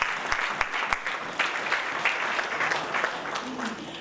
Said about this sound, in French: Applaudissez le Seigneur pendant la passe.